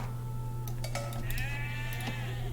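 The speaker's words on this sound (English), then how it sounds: "Oh, is that more sheep?" Sheep in the Age of Empires 2: Definitive Edition video game bleat a few times in quick succession, clear and upfront over a steady low game hum, with faint clinks mixed in.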